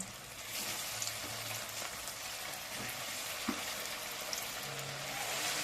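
Crispy sago (sabu) chops frying in hot oil, a steady close sizzle throughout with occasional small pops and light taps.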